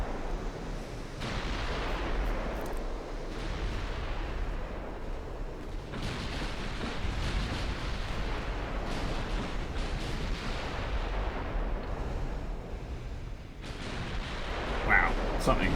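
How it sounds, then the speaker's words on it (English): Naval artillery thunders in a warship video game, 14-inch high explosive shells landing amid continuous low rumbling blasts and dense crackling explosions, heavy and sustained, with a voice talking over it. "Taking a 14-inch high explosive shell to the face."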